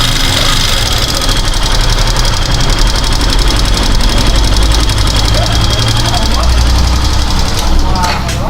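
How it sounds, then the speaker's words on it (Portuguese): Factor 150 motorcycle engine idling with a rocker arm knocking, a steady close rumble with a continuous fast ticking clatter. Voices can be heard faintly in the background. "Balancinho está batendo, só isso, mais nada."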